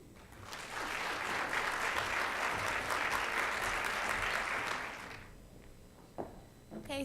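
At an MLK oratorical contest, an audience breaks into loud, sustained applause for a speaker; the clapping swells, holds for about four seconds, then fades into a few scattered claps and footsteps.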